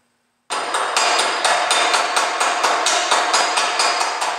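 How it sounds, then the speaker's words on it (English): Hammer chipping slag off a 7014 stick weld, a rapid series of sharp metallic taps at a steady rhythm, loud and close, starting abruptly after a short silence. "when we remove it, it'll come off fairly easy with just a couple of taps and a little bit of wire brushing"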